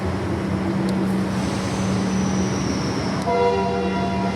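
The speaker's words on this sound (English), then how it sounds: "There's a Sprinter V-Line leaving towards Seymour right now." A V-Line Sprinter diesel railcar rumbles steadily nearby at Southern Cross Station with a low engine drone, and a brighter tonal horn-like hum rises near the end as it departs towards Seymour.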